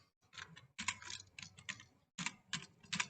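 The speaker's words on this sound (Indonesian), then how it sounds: "Ya, ini saya ketikkan eksponen." Typing on a computer keyboard to enter data into a school grading app comes through as several quick bursts of close, crisp key clicks. Short pauses separate the bursts, and no one speaks.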